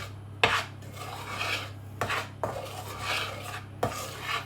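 A spoon stirs flour into banana and walnut cake batter in a bowl, soft gritty scraping strokes with three sharper clinks against the bowl, quiet and alone.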